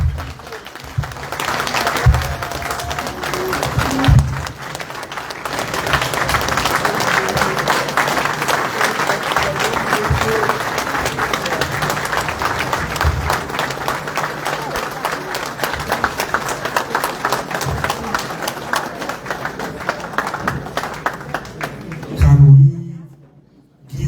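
Convention audience applauding steadily for about twenty seconds, a dense sustained wash of many hands clapping with some crowd noise, ending in a brief louder burst.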